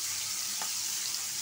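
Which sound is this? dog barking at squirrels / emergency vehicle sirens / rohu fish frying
rohu fish frying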